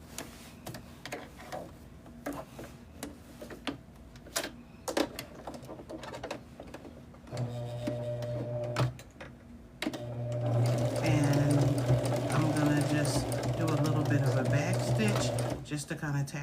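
A sewing machine stitches a quilted bag, tacking along a folded, turned-in edge, with bursts of steady rapid mechanical whirring and needle clatter after sparse ticks and handling clicks, growing louder and sustained toward the end.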